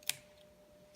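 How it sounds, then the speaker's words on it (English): Scissors snipping the ends of a felt flower, one sharp close snip near the start followed by a quiet pause and a faint rustle at the end. "I prefer to snip it off so it can stand flat"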